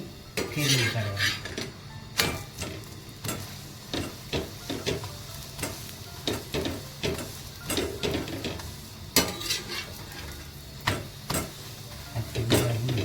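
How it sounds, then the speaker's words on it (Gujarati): Pumpkin thepla flatbread cooks on an oiled pan and is flipped over, bringing repeated metallic clinks and scrapes of a utensil against the pan over a faint sizzle, close and steady, with no talking. "પછી ફેરવી કાઢવાનું."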